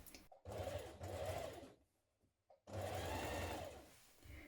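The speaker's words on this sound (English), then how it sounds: "We're stitching onto the pocket and the seam, which will be on the inside." A sewing machine stitches the pocket seam on a pair of trousers, running in close, steady whirring bursts with a short pause in the middle, alone without talk.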